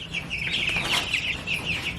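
Cornish Cross meat chicks in their second week of raising, clucking and peeping continuously at close range, a busy overlapping chorus with no talk.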